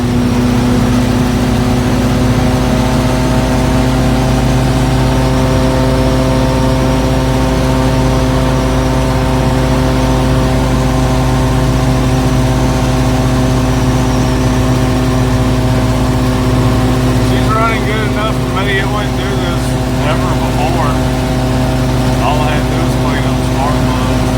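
A 1977 Ford F350 truck engine drones steadily at highway speed, around 65 mph, a loud continuous low rumble with road noise that holds throughout, no talking over it.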